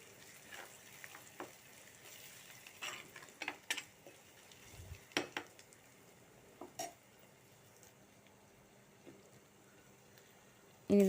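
Fish curry with fenugreek powder stirred in a pot: a faint, steady low sizzle broken by scattered scraping clicks of a spoon against the pot, with a louder clatter at the very end and no talking.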